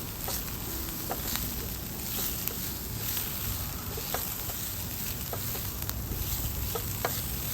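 Fresh garden okra fries in a pan with curry spices, a steady close sizzle scattered with small crackles and pops that carries evenly throughout without any talking.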